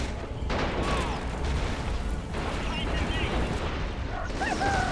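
Tank machine guns fire in a World War II battle in the Netherlands, 1944, in the video game Men of War: Assault Squad 2: dense bursts and booms over a busy battlefield din, with someone talking over the top.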